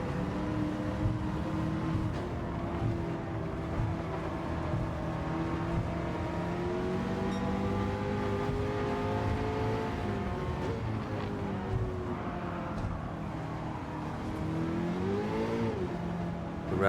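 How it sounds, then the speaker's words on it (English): A Toyota Hiace van with a swapped engine races at Tokyo in Gran Turismo 7, its engine droning and revving steadily throughout with shifting pitch as the rear axle spins up, ending in a sharp rise. "back axle just spinning up"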